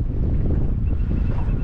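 Wind blowing hard across open water while fishing from a boat at low tide, a continuous heavy low buffeting roar against the microphone with a rushing hiss and no pauses.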